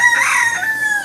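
A rooster from a red mottled Ancona breeding flock crows once, a single loud, close call with a rising then sustained tone, heard alone without voices.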